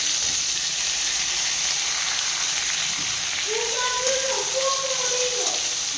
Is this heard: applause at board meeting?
no